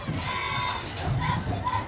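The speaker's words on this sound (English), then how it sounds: "the Poway Wolfpack cheering squad doing an excellent job out there today, getting the crowd involved" A crowd cheers and shouts during a Pop Warner pee wee football halftime show led by the Poway Wolfpack cheer squad, a continuous blended roar of many voices at a moderate distance, with no clear words standing out.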